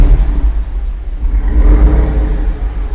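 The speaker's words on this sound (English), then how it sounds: "It sounds like a Hellcat when you push that performance exhaust button" A deep engine exhaust from a supercharged Jeep Rubicon 392 with performance exhaust rumbles and burbles steadily up close, swelling slightly midway with no voices.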